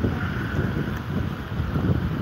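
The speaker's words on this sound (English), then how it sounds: "It's so windy out right now." Strong wind blows outdoors at a theme park's arts festival, buffeting the microphone with a dense, steady roar and low rumble that doesn't let up.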